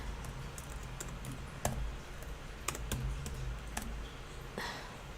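Sparse keyboard clicks from someone typing at a computer, a handful of light taps scattered over steady low room noise, no voices.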